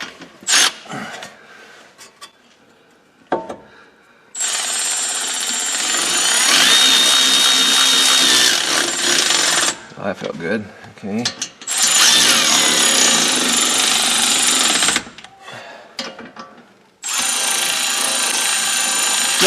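Power tools driving fasteners while installing the rear suspension and RDU drive axle on a Herbie project car, in several loud sustained whirring bursts separated by pauses, with someone briefly speaking between them.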